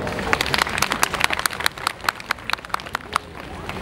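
Scattered hand clapping from an audience at an embroidery art exhibition awards ceremony, sharp individual claps over a steady crowd murmur, moderately near and continuous.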